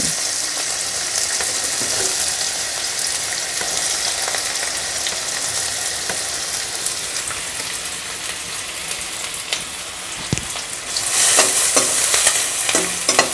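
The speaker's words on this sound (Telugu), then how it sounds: "నూనె వేడయిందో లేదో ఒకసారి కొంచెం ఉల్లిపాయలు వేసుకుంటే మనకి తెలుస్తుంది కదా" Onions frying in hot oil for a prawn fry, a continuous close hiss and crackle that holds steady and then swells louder near the end.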